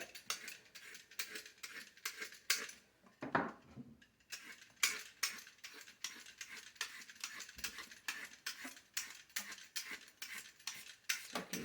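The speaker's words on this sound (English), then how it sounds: "now I'm gonna do the carrots. I got this new peeler and it's working good." A new vegetable peeler scrapes down carrots in a home kitchen, making quiet rhythmic strokes that repeat steadily, close by, with an occasional clunk between passes.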